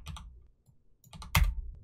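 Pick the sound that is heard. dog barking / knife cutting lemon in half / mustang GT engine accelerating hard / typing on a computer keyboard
typing on a computer keyboard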